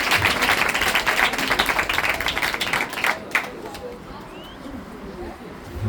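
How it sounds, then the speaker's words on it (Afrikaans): A church congregation claps together for a member named Toby, a dense burst of applause that fades out after about three seconds, leaving a quiet room with faint birdsong. "Kom skep vir Toby lekker aan die klap."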